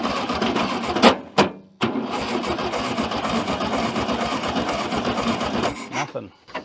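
Old Volkswagen Bug engine that sat ten years in a junkyard, cranking over with a continuous rhythmic churning from the starter, loud and close, briefly interrupted, with a voice speaking during a pause.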